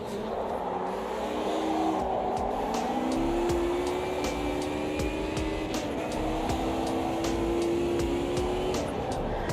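A race car engine drones steadily in the Automobilista 2 racing game, its pitch rising and falling through the gears, while the tyres complain under braking into a hairpin. The sound is loud, close and continuous, with no talking.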